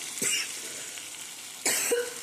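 Two sharp coughs, one near the start and another about a second and a half later, with a faint sizzling hiss continuing underneath.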